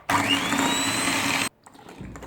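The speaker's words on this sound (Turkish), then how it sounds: "Ve hemen onu da mikser yardımıyla çırpıyorum." An electric hand mixer whisks egg yolks with sugar, a loud steady whirring drone for about a second and a half before cutting off into quiet kitchen background.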